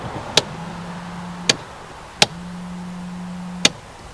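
A replacement Attwood bilge pump motor on a 1996 Sea Ray 175 Bow Rider is switched on twice. Each time a switch clicks, a steady low motor hum runs for about a second, and a second click stops it.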